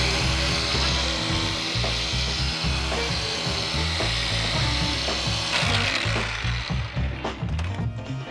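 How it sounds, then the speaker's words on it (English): A car polisher works a headlight lens slowly under steady pressure, giving a continuous close grinding whir with rubbing, rattling texture throughout. The texture grows choppier toward the end. "I'm gonna go nice and easy and slow with some pressure and polish this headlight out"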